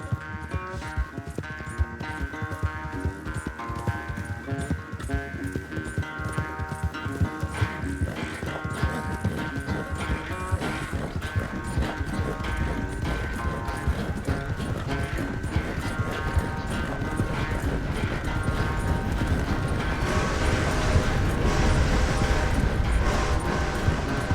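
Horse hoofbeats clip-clop in a steady, driving rhythm during a race in Red Dead Redemption 2, loud and continuous over game music, with an occasional whinny and intensity building toward the end.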